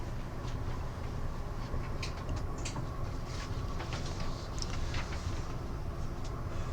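A steady low rumble of an O-Train light rail train rolling along the track, merging onto single track, heard from inside, with faint squeaks and rattles over the continuous drone.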